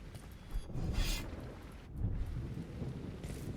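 A lightning attack effect in the crunchy old-school hack-and-slash roguelite VOIN, two bursts of rumbling, crackling thunder-like noise rising and fading over a dull rolling bed.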